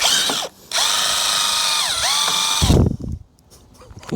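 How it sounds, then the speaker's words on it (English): Power drill whining at high speed as it pilots, countersinks and drives screws into a wooden Tahiti gaff cutter boat, with a sustained loud run, brief pitch dips, then a clunk and quieter handling noises. "I'm going to pilot and countersink this first, and then just drive those in."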